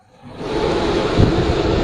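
An Iranian room cooler, model 1435, blows air steadily in a Peshawar wholesale market, a broad continuous rushing whoosh that swells up within the first quarter second and holds loud throughout, with no talk.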